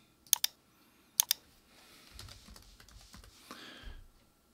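Someone types an email on a computer keyboard, with a few sharp key clicks in quick pairs followed by softer, scattered tapping, close and quiet.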